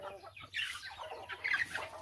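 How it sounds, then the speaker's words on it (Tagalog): Chickens in a coop squabble and fight, giving a quiet burst of agitated clucks and squawks that rises partway through and stays faint and close, with no one speaking. "Away-away na yung ibang manok."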